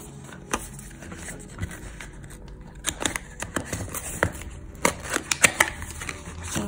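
Crinkly rustling and sharp tearing clicks as an AliExpress package holding a phone macro lens is opened, close and quiet, in irregular bursts that thicken toward the end.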